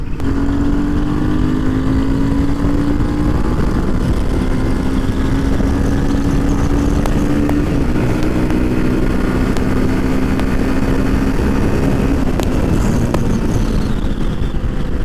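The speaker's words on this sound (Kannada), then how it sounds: "ಎಕ್ಸಾಸ್ಟ್ ನೋಟು ಅಷ್ಟೇ ಕ್ರೇಜಿ ಇದೆ, ಶಾರ್ಪ್, ಬೇಸಿ, ತುಂಬ ನಾಯ್ಸ್ ಮಾಡೋದಿಲ್ಲ." A Royal Enfield Himalayan 450 motorcycle is ridden steadily, its exhaust giving a continuous deep, bassy drone with a gently rising and dipping engine pitch, loud and close throughout, with wind rumble and no talking.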